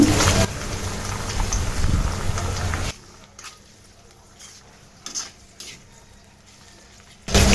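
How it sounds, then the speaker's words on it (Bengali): Onion and ground spice paste with a little water being stirred and fried in a pan for a pigeon meat bhuna, with a steady sizzle and spoon scraping that stops abruptly partway, then quiet clinks before the frying resumes. "মশলাটা ভালো করে কষিয়ে নিব"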